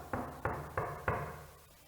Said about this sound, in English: The wolf came to the house, at the door, and knocked.